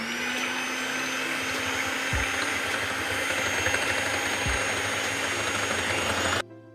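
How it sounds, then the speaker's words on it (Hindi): An electric beater whips four egg whites in a bowl with a steady, loud motor whine and a buzzing drone that runs without a break, then cuts off abruptly near the end. "इसको करेंगे बीटर के साथ बीट"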